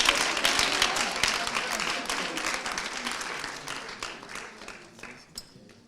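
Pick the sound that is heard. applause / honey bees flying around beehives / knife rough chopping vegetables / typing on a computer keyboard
applause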